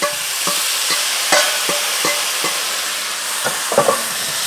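Zucchini and pepper frying in a pan give a steady sizzle, broken by repeated scraping clicks as they are stirred and moved around, close and with no talking.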